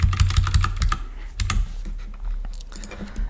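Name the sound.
computer keyboard typing while erasing code lines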